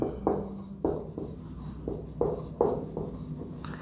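Pen strokes scratch across paper while a maths problem on maxima and minima is worked out, giving faint, intermittent scratches and taps over a low background hum.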